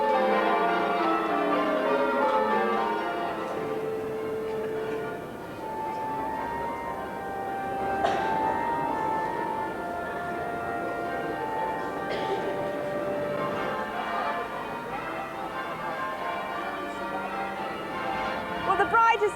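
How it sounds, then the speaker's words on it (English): Church bells peal continuously from a tower, a layered ringing of many overlapping tones heard at a steady moderate level throughout, with no talk over them. "they're all up there pealing the bells now"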